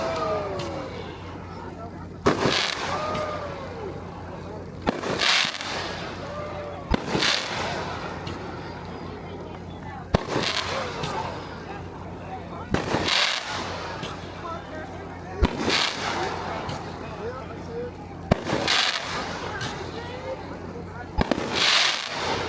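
Fireworks burst outdoors at a 4th of July camping celebration in Centerburg, Ohio, with about eight sharp, loud explosions spaced a few seconds apart over a steady background with crackle between them.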